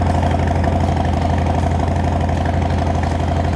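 A 2024 Harley-Davidson Street Bob FXBBS idles steadily through a 49-state compliant exhaust, with a high performance camshaft and air intake, giving a loud, close, continuous low rumble with an even lumpy pulse and no talk.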